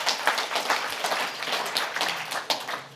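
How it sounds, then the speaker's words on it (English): A room full of people claps for Carl at a regional event, dense close applause with scattered sharper claps throughout. "Everybody give Carl a round of applause"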